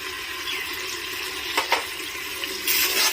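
Ginger-garlic paste with onions and green chillies sizzles steadily in a pan for a veg pulao, with a couple of brief stirring scrapes and a louder hiss near the end.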